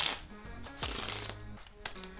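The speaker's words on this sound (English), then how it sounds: "Riffle shuffle with waterfall finish." A deck of playing cards is riffle shuffled with a waterfall finish: a quick, close burst of crisp fluttering card clicks, then a softer cascading patter as the cards settle, with no speech.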